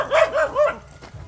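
A dog on a hiking trail in Dauin, Philippines barks three quick, close, loud times in succession, then falls quiet.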